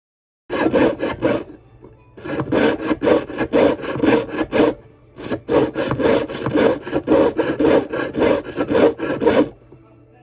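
A hand saw cuts excess metal from a handmade overlay ring in quick back-and-forth strokes, close and loud, in two bursts separated by brief pauses.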